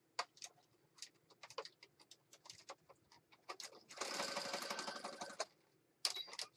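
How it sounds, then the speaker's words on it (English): A sewing machine stitches a junk journal page: scattered small clicks and taps, then a continuous whirring run of stitching for about a second and a half, followed by more clicks and a short final burst, fairly quiet. "I'll go over to the sewing machine and stitch it."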